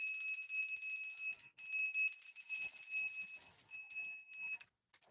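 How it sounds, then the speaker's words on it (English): A light bell rings clearly during a tarot and oracle reading, its bright tone sustained for over four seconds before stopping abruptly, then one brief faint strike follows. "Such a light bell."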